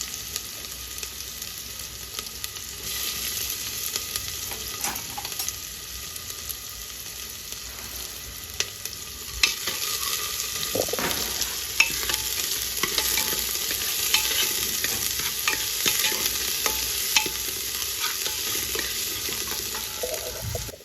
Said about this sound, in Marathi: कांदा छान परतून घेतला की त्याच्यामध्ये मी मटण ॲड करते